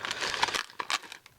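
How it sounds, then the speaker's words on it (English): A small plastic bag of toy parts crinkles and rustles as it is handled and opened, a quick run of close, crisp crackles that fade near the end. "It's just packed in a little plastic bag."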